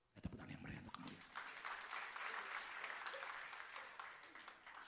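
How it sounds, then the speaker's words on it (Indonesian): A church congregation breaks into applause, starting with a few sharp claps that swell into sustained, lively clapping from the whole room, with some voices mixed in. "Tepuk tangan yang meriah untuk kemuliaan"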